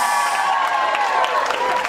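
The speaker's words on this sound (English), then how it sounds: "If you enjoyed that dance, please give them a round of applause" Guests at a wedding reception give a dance a round of applause, a close, sustained wash of clapping and cheers with someone talking over it.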